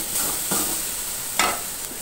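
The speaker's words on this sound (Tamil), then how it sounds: "நல்லா வதக்கி விட்டுக்கலாங்க." Vegetables, with potato and carrot going in, are sautéed in a pan for a Tamil village-style dish. There is a steady sizzle of frying with a few brief scraping stirs of the spoon, close and unaccompanied by talk.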